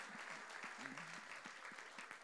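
Church congregation applauding during a Spanish-language sermon, a steady wash of clapping with a few low voice fragments mixed in throughout.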